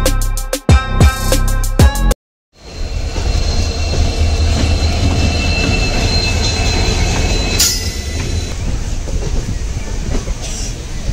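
Train travelling from Bengaluru to Mysuru: after a few short abrupt sounds and a brief gap, a loud, close, continuous rumble of the moving railcar takes over, with rhythmic wheel clatter and a high squeal partway through.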